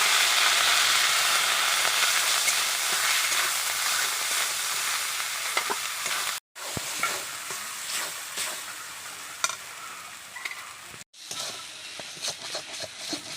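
Ground taro paste sizzles steadily in hot oil in a home kitchen pan, a dense continuous frying hiss with scattered stirring scrapes and brief pauses when the spatula stops.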